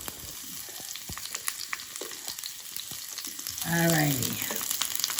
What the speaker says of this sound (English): I'm gonna put the onion in.